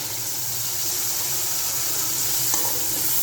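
Garlic, ginger, green chili and tomato paste hit hot oil with fried vegetables for a chicken and vegetable pulao, giving a steady, loud sizzle and hiss that runs throughout with a brief stirring clink near the end.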